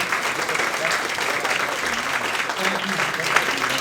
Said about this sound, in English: Let's give them all a rounding hand of applause.